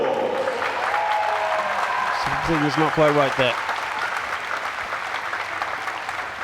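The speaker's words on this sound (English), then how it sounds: "Let's give all the swimmers a round of applause." At a para swimming competition, a poolside crowd applauds for the swimmers with a broad, continuous wash of clapping, while a commentator talks over it.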